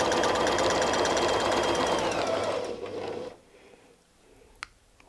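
A sewing machine stitches a quilt with a rapid, loud, even mechanical chatter that runs for about three seconds, then slows and stops, followed by near quiet with a couple of small clicks.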